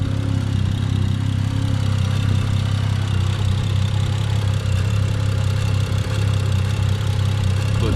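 A tuned BMW engine with about 155,000 miles idles steadily up close under the hood, a constant low rumble with light mechanical ticking and no voices.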